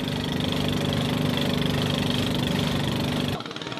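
A small motorboat's engine drones steadily and loudly at close range for a couple of hours' run to a market, a constant buzzing hum that cuts off abruptly near the end.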